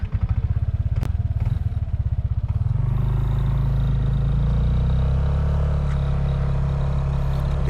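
A 2019 Yamaha Nmax scooter is ridden on the road as the throttle is twisted, its engine pulsing at first and then rising into a loud, steady drone as it accelerates, with wind rumble and no talk.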